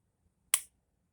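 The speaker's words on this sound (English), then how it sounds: "Watch how short the trigger reset." Short, sharp mechanical click from the trigger reset of a Sar9 pistol, a single crisp snap close to the microphone in an otherwise quiet moment.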